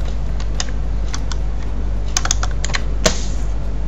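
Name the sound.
typing on a computer keyboard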